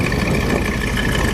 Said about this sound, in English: Sounds great too. The exhaust coming out the side. Got a little rumble to it.